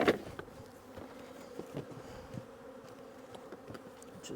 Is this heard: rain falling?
no